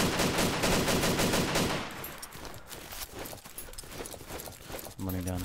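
Rapid gunfire bursts crackle loudly through the opening seconds of a DayZ squad fight, followed by quieter scattered game sounds and a short burst near the end.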